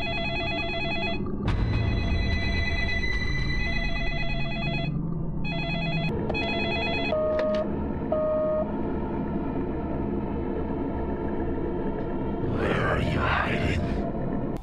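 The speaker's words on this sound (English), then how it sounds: "The killer called this specific phone, so he should know where York is" A telephone rings in the horror video game Deadly Premonition, repeated electronic bell tones over a droning low ambient score, with a burst of noise near the end.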